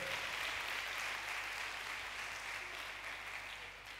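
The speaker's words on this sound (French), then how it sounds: "Est-ce qu'on peut acclamer Jésus? Oh, acclame bien s'il te plaît." A church congregation applauding during a sermon, steady sustained clapping at a moderate distance, fading slightly toward the end.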